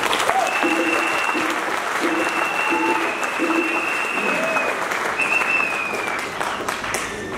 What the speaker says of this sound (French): Je voudrais qu'on les acclame très fort.